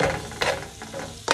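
Peppers, onions and mushrooms fry in a pan for a big breakfast, giving a steady close sizzle broken by two short bursts of stirring or scraping.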